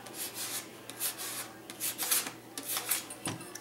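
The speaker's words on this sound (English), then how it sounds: "sand that down, and there we have our shabbied mason jar" Sandpaper rubbing over a glass mason jar to distress it, a run of soft, uneven rasping strokes at close range with short pauses between bursts.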